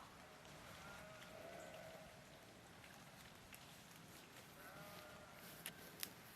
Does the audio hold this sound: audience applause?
no